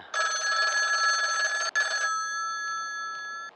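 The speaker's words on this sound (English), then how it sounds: "The phone begins to ring." A telephone bell rings loudly in one sustained trill for about two seconds, briefly broken, then a ringing tone lingers and fades.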